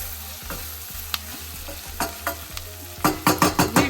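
Onions cooking in a pan for mutton palak, with a soft, steady sizzle broken by scraping stirs that grow louder and come in quick bursts toward the end.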